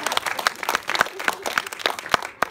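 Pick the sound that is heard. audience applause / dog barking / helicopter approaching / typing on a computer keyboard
audience applause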